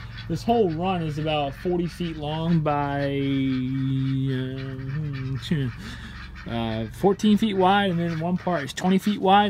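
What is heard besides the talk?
ducks and chickens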